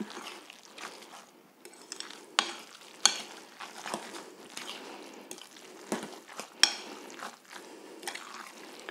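Cauliflower fritter batter is stirred in a bowl, giving soft, wet scraping and squelching strokes in an irregular rhythm with occasional sharper clicks of the utensil, fairly quiet and close, without speech.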